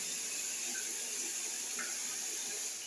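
Water runs steadily into a blue bucket in a bathroom, a constant close hiss and splash with no voices.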